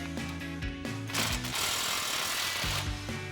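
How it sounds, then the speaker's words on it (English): A ratchet with a 15mm socket tightens an exhaust clamp on a 2021-2025 Ford F-150 Roush single exhaust system, giving close, steady mechanical clicking with brief pauses between strokes and no talking. "we'll snug this with our 15mm socket."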